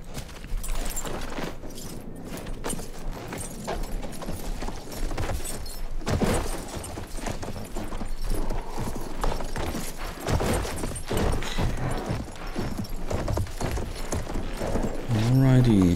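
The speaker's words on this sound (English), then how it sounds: "I'm gonna take the horse." Horse hooves clip-clopping in rhythmic strides while riding in the Battlefield 1 video game, mixed with gunfire and game effects, with someone talking over it.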